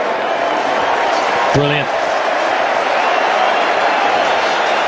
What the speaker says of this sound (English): the crowd are rising to this too